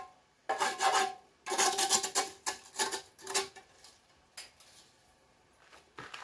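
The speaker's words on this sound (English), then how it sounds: "I used a chisel and just scrape around." A chisel scrapes soot off a metal chimney cap in short rasping bursts, several strokes close and fairly quiet, then sparser scrapes and taps with no talk.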